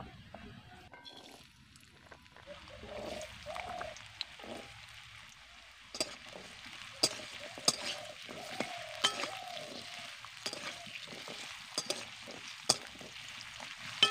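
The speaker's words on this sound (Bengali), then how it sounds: "গাজর কিন্তু আমার অনেকটাই ভাজা হয়ে গেছে" Carrots fry in oil in a pan, a quiet steady sizzle broken by sharp clicks and scrapes of stirring, close by and without talking.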